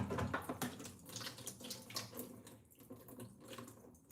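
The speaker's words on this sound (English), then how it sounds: "I promised him that I would rinse the meat off to get the oil and fat off of it." Tap water runs steadily into a sink while beef is rinsed under it to wash off oil and fat, a close, continuous splashing with small fluctuations.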